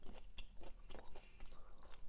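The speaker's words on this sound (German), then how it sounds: "aber du hast halt in jedem Biss noch zusätzlich so einen Crunch, welcher wirklich, wirklich lecker ist" Bites into a crunchy Lindt milk chocolate bar studded with crisp pieces, heard as close, repeated crunching and chewing with sharp crackles spread across the whole stretch, no talking.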